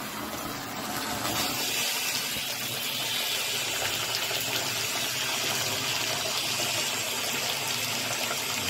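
A high-end Delta faucet running at full flow, a strong, steady gush of water pouring loudly and continuously with a broad hiss and no voices.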